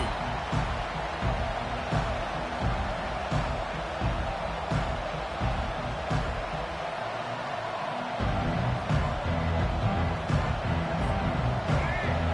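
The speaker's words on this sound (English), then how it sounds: "This crowd, full throat, splitting the eardrums" Broadcast-style football game crowd roaring in a stadium, a dense sustained wall of cheering that swells slightly partway through, carrying on steadily throughout.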